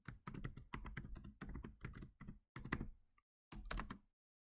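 A computer keyboard clacks steadily as a cartographer name is typed into QGIS, quiet close keystrokes in quick bursts with brief pauses.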